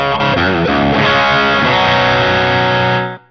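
An electric guitar runs through a Ninevolt Wolf in the Forest distortion pedal with the gain turned down to about nine o'clock. It gives a loud, thick, slightly overdriven tone of bending notes that settles into a ringing chord before cutting off.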